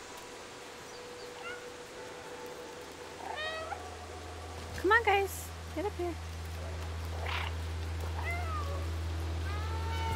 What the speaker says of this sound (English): I don't know if the meowing is actually meant to do something or if it's just meant to be, like, stupidly cute